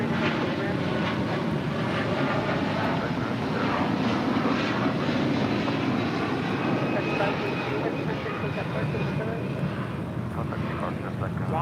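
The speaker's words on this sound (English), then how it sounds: "Wamos Air operating for Avianca 523, departing to San Salvador on the A330-200." A Wamos Air Airbus A330-200 jet airliner departing LAX makes a steady, loud, broadband engine roar that holds unbroken for the whole stretch, with faint voices faintly present beneath it.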